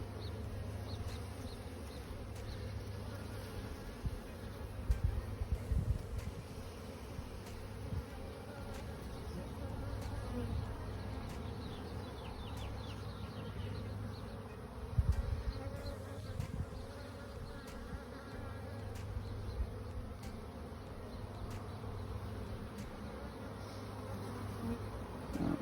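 Honeybees in an open hive during an inspection hum in a steady, dense drone throughout, close and fairly faint, with occasional louder passes and light handling knocks.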